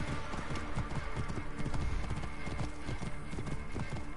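Horse hooves clip-clop in a quick, steady rhythm, several hoofbeats overlapping close by, with an occasional whinny and faint background sound.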